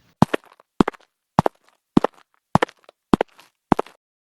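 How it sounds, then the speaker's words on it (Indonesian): Seven evenly spaced footsteps, each a sharp, close double thud, walk at a slow steady pace with silence between them and no voices. "aku mendengar suara langkah kaki. Bukan langkah kami, suara itu terdengar pelan dari belakang."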